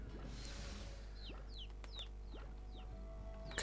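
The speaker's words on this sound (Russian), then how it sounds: "Какой классный цыпленок, вообще обалдеть." A chicken in the video game Slime Rancher gives a run of soft clucks and short chirping calls, spaced irregularly over a low steady hum, fairly quiet and with no talking.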